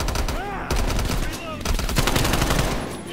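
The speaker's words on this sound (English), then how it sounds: "First gunfight!" Dense automatic gunfire in the Call of Duty Black Ops Cold War campaign, with loud, rapid bursts and overlapping shots that run almost continuously, along with brief voice sounds in the mix.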